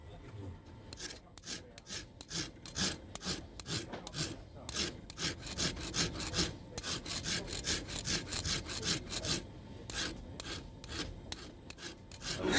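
A wooden shoe last being shaped by hand at a bespoke shoemaker, with material rasped away in rapid, regular back-and-forth strokes, close and steady throughout with no talking.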